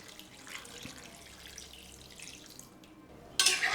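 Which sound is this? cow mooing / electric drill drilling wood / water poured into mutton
water poured into mutton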